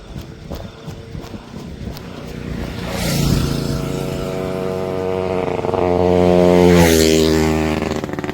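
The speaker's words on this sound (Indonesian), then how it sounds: "Ada motor lewat di sini." A motorcycle on a mountain trail near Promasan, Ungaran, approaches and passes close by, its engine swelling loudly and rumbling before fading slightly; footsteps are heard faintly before it arrives.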